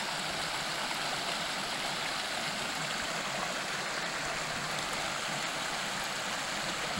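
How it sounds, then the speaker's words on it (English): A creek rushes and burbles over rocks in a steady, close, continuous wash of water sound, with nothing else standing out. "This creek was just a roaring. Not so much now."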